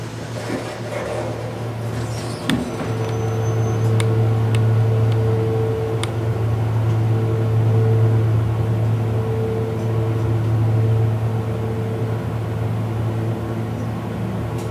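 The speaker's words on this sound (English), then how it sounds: "Let's listen to the motor." Motor of an old Dover hydraulic elevator in a San Antonio, Texas building running with a steady low hum and whirr, a constant mechanical drone close by with a few faint clicks and no talking.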